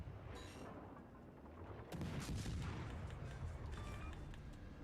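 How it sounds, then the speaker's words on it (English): Broadside from the Atago heavy cruiser in World of Warships Legends: a quiet rumble of battle noise breaks into a loud, broad booming salvo partway through, followed by lingering rolling blasts. "Sending broadside to 2 battleships."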